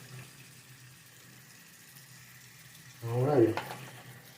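Water splashes as a Jada diecast model car is rinsed, bursting in suddenly near the end after a quiet stretch with a low hum and one brief spoken word.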